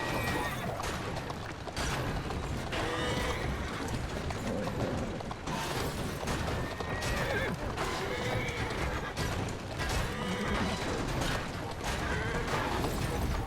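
In the video game Assassin's Creed Syndicate, a horse whinnies several times amid clip-clopping hooves and clanking, rattling noises, with a voice speaking intermittently underneath.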